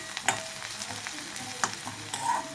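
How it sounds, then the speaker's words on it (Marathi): Crushed ginger and garlic fry with onion in a pan for bheja fry, a soft continuous sizzle with occasional spoon clinks and scrapes as it is stirred. "1-2 मिनिट भाजायचं आहे बघा आलं आणि लसूण"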